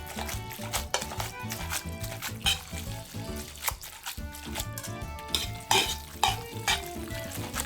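Pasta being stirred together with dressing and Parmigiano Reggiano in a pan, giving a steady run of wet, sticky stirring and scraping against the metal, with light clinks throughout and no talking.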